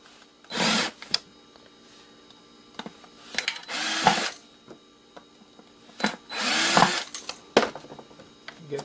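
A power drill unscrews screws from an old electric tea kettle, with short whirring bursts of the motor separated by pauses filled with small clicks and taps of handling, close and fairly quiet.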